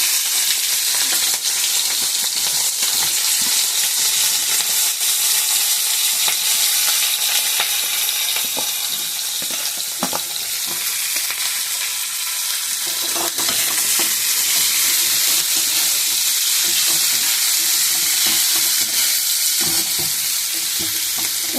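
Onion and green chilli fry in hot mustard oil in a kadai, a loud, continuous sizzle with the occasional scrape of stirring, steady throughout with no talking.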